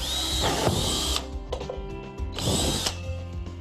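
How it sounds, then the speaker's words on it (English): A power drill fitted with a 2-inch hole saw bit cuts through a plastic bucket lid in two loud whining bursts separated by a short pause with clattering, the motor revving up and stopping close by. "a 2-inch hole saw drill bit to drill out the holes in the lid of our bucket"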